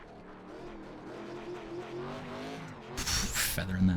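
Race car engine in an ARCA racing video game at Atlanta, holding a steady harmonic drone with throttle feathering, then a loud bright burst of tire or wall noise near the end, with faint talk underneath.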